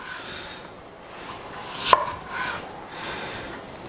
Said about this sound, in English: I'm just going to go ahead and slice all my slices right on down through.